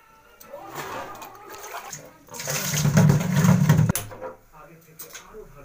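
Tap water runs and splashes as potatoes are washed by hand in a home kitchen, a steady rushing stream that swells loud for a few seconds, then cuts off abruptly, leaving light clatter.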